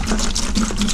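A cast iron pie iron sinks into a bucket of vinegar with a brief, close pour-like slosh and gurgle of liquid, steady throughout the short moment.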